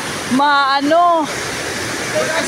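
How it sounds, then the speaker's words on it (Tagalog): Tagbibinta Falls waterfall, a loud, constant broadband roar of falling water close by, with a voice briefly calling out over it. "nandito po kami sa Tagbibinta Falls"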